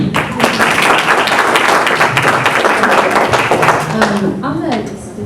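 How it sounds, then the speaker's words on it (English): A panel discussion audience breaks into brief applause, dense clapping that carries on under people talking over it and fades near the end. "That's a clap."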